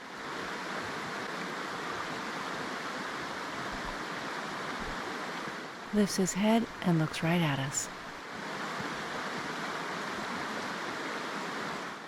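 A river flows steadily with a broad, constant rushing wash from start to finish, and a voice speaks briefly over it near the middle.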